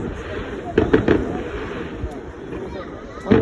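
Distant fireworks pop and thump in a few scattered bursts, with a cluster near the start and another at the end, over a steady low outdoor rumble, heard from far away.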